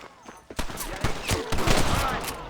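Gunfire in the video game Red Dead Redemption breaks out as a burst of several sharp, loud shots with echoing tails, fired in quick irregular succession over game music and ambience.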